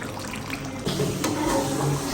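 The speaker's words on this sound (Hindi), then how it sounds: "जो यखनी का पानी था ना, यखनी थी, वो मैं इसमें डाल रही हूँ" Mutton yakhni broth is poured into a cooking pot, a short splashing liquid pour that starts abruptly partway through and continues steadily, close and moderately loud, with no talking.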